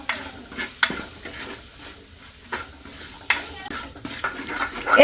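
Duck roast masala sizzles and is stirred in a pan, with intermittent scraping and clinks of a spoon against the pan over a soft, continuous frying hiss.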